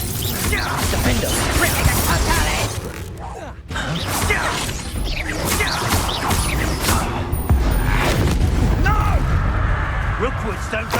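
Confringo blasting spells in Hogwarts Legacy set off repeated fiery bursts and crashing impacts amid continuous battle clatter, loud and close across the whole stretch, with a sharp break near the middle and voices mixed in.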